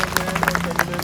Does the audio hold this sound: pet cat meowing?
no